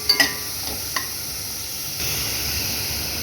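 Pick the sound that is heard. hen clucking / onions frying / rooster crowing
onions frying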